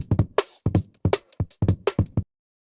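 A chopped, time-stretched breakbeat drum loop of punchy kicks and bright snare hits in an uneven, stretched groove, loud and close, ending abruptly in silence.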